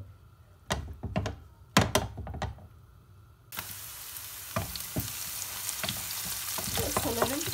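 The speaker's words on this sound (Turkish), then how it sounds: "Onları sıvı yağla birlikte biraz kavuracağım." Chopped leek leaves drop into hot vegetable oil in a pan with a few thuds and clatters, then settle into a steady, close sizzle of sautéing that builds gradually, with no voices.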